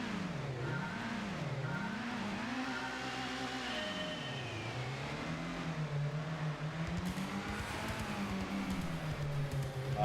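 A Subaru WRX engine in the Gran Turismo racing game revs up and down in rising and falling sweeps, loud and continuous, with tyre noise as the car drives, no voices.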